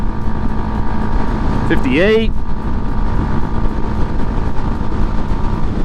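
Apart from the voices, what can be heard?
Honda Grom 125cc motorcycle engine at full throttle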